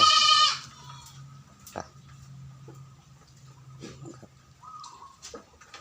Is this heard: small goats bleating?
yes